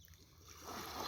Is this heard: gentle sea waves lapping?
yes